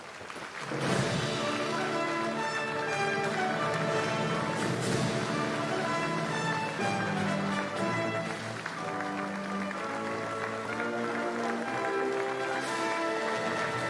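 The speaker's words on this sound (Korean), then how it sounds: "큰 박수로 환송해 주시기 바랍니다." An audience applauds as four presidents exit a Korean presidential inauguration ceremony, clapping loud and continuous over a bright, busy background.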